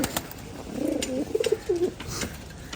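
Pigeons give a short run of soft, throaty coos up close, a few rolling notes in quick succession with light rustling around them and no voices.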